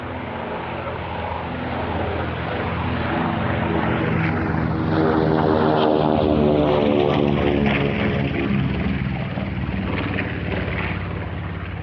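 Piston propeller engines of a B-25 Mitchell bomber drone loudly and steadily with strong harmonic throb, swelling as it passes close and slowly fading.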